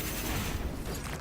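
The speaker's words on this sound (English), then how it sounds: "It cannot shrug off our cannons. The Titan fires at us." Titan cannon fire in the video game Space Marine 2: a dense, continuous barrage of loud booming blasts that fills the whole brief moment, with no talk.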